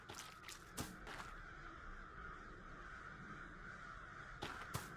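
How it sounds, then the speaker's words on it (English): Several loud crow caws from a video game ring out in short bursts near the start and again at the end, over a steady background hiss. "look at these birds"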